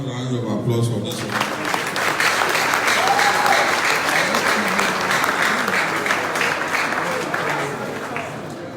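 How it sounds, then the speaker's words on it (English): A voice is heard briefly before an audience at Felabration, a Fela tribute event on African leadership, bursts into broad, continuous applause that stays loud and even for several seconds. "Another round of applause for this one."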